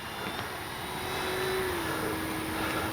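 A radio-controlled P-51D warbird model plane comes in to land, its engine droning steadily at a distance with a slowly rising and falling pitch, no voices present.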